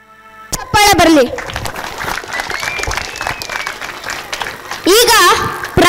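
Audience clapping at a Ganesh festival cultural programme staged by a youth association, a steady wash of applause running under a presenter's amplified voice, which rises at the start and again near the end.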